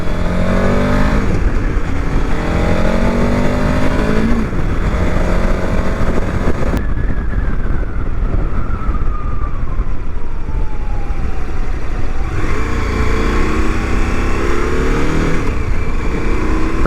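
A 2023 KTM 1290 Super Adventure S motorcycle on the move, its engine drone and wind rush steady and loud throughout, with rising and falling engine tones as the rider changes speed.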